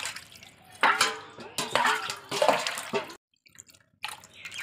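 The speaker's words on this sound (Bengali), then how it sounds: "মাছটা আমি ধুয়ে নিচ্ছি।" Water splashing and dripping while batka fish is washed by hand: irregular close bursts of running and sloshing water, a brief quiet gap, then more splashing.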